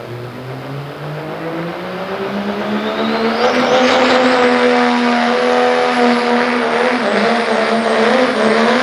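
A 2006 Dodge diesel truck nicknamed the Snowplow Special roars as it drags a sled down a clay tractor-pull track, the engine climbing loud and steady in pitch over several seconds with rising high-pitched whine and sustained revving, no talk.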